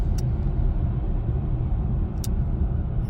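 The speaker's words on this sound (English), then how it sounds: "now I add more gas and it goes in here" A 2022–2025 BMW i4 M50 electric car with 544 hp accelerates, heard from inside the cabin as a loud, steady low rumble of road and drive noise with a couple of faint clicks.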